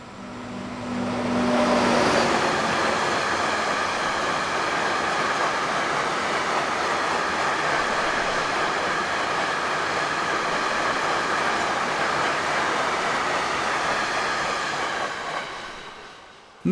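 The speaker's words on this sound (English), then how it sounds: "Vossloh 2000 off-centre cab loco, number 1273003, with Inno freight tanks" Vossloh 2000 off-centre cab diesel locomotive hauling Inno freight tank wagons through Hannover-Linden station, a loud sustained roar of passing wagons after a brief engine hum at the start, close and steady before fading at the end.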